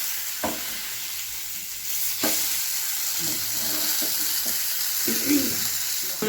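Fish frying in a pan with a steady sizzle, broken by a few soft knocks and scrapes as pieces are slowly turned over.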